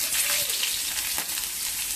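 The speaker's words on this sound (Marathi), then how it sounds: "आता कांदा आहे ना, आपण तेलावरती मस्त छानसा परतून घेऊया" Onion fries in hot oil while being prepared for a spicy elephant-foot yam and onion curry, giving a dense, even crackling sizzle that holds close and loud with no voices.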